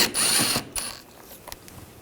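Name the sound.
ratchet removing T25 screw on Volkswagen Tiguan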